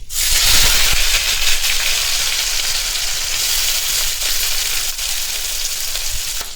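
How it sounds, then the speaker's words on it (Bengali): Three medium chopped onions frying in a pan over a medium gas flame, a loud, steady, close hissing sizzle that starts strongly and holds evenly throughout. "কিছুক্ষণ ভেজে নেবো পেঁয়াজগুলো"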